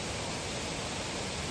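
A strong-flowing waterfall near Bhimashankar roars as a dense, unbroken rush of water, loud and steady for the whole moment, with no voices.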